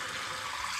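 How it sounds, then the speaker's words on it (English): Warm water streams steadily into a jug in a kitchen, a brief soft hiss of flowing liquid. "I'm just going to put some warm water into this jug."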